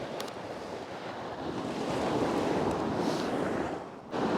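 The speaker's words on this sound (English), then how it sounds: "Let's wait for a bit of sea to come in and then to recede back." Sea waves wash in and pull back along a rocky coastline, a broad rushing surge that swells and then fades, with gusty wind buffeting the microphone.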